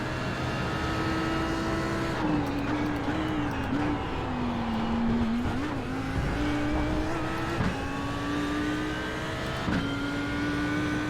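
A race car engine closes in on a GTE car, a loud sustained onboard drone with pitch rising and falling through gear changes, and a voice speaks briefly over it.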